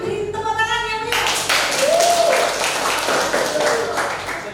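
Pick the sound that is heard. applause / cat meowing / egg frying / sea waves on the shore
applause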